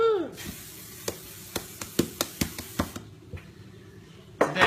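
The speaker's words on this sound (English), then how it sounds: "today we're going to use some organic olive spray cooker" Several short, sharp bursts of organic olive oil cooking spray into bread pans in quick succession, each a brief hiss, followed by a longer spray at the end.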